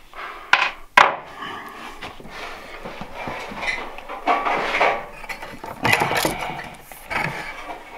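A small metal washer drops onto a kitchen pantry floor with a couple of sharp clinks, followed by scattered light rattles and handling knocks nearby.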